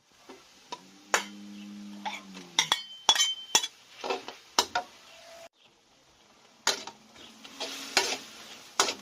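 A utensil stirs and scrapes a stir-fry of holy basil, dried chili and bamboo shoots in a pan, seasoned with fish sauce, sugar, MSG and soybean paste. It gives irregular metallic clinks and scrapes in short bursts, with faint sizzling and no talk.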